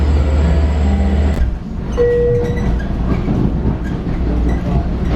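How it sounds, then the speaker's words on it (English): Commuter train on a Long Island line bound for Penn Station, rolling into the station loud and close, with a steady rumble, rail clatter and a brief high squeal, no voices. "Here goes my train."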